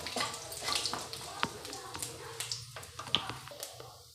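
Kasuri methi and cumin frying in oil, heard as a brief, soft sizzle with scattered crackles and clicks, fairly faint and close, with light spoon contact.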